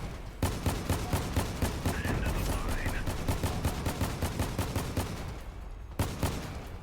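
Machine gun fire in the Crossout vehicle combat game, long rapid bursts of sharp repeated shots, briefly cut off near the end before one more burst.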